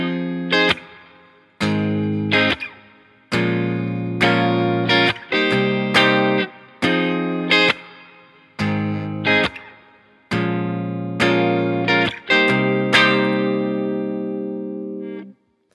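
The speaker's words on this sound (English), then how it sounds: "The chorus uses the same chords as the verse, but we're going to be strumming instead of finger picking." Guitar strumming the chorus chords of a song, heard alone with no talk over it: bright, full strums in a steady repeating pattern, each chord ringing out and fading before the next.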